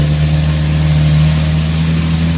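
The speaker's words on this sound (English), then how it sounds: "That's the exhaust trying to get by this clogged catalytic converter." A car exhaust hisses heavily as it forces past a clogged catalytic converter, a loud steady close roar with a strong low hum running under it throughout.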